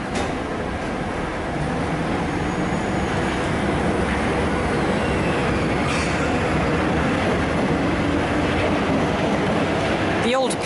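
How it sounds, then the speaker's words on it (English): An old Paris metro train runs on its line with a continuous loud rumble and clatter of wheels and carriage noise throughout, with a brief squeal near the end. "The old Paris metro trains, which still operate on a number of the lines"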